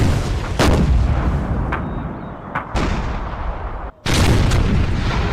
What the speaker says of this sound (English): Union artillerist Peter Conover Haynes ordered his 30 pounds Parrott rifle to fire on the Confederates near the Stone Bridge